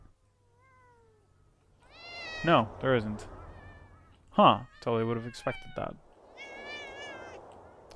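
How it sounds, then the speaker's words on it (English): Cats in the video game Thirty Flights of Loving give several close, clear meows, some drawn out, while a person talks between and over them. "I think the cats are adorable."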